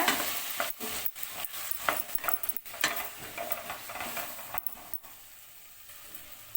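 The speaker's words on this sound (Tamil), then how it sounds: "இது கூடவே 2 தக்காளியை கட் பண்ணி வச்சுருக்கேங்க, அதையும் சேர்த்துக்கோங்க. இதுவும் நல்லா சாஃப்ட் ஆகணுங்க, அது வரைக்கும் நல்லா வதக்கிக்கோங்க" Chopped tomatoes being sautéed in a pan for a sweet corn gravy, with close, irregular scraping stirs over a soft sizzle, the strokes thinning out toward the end and no speech.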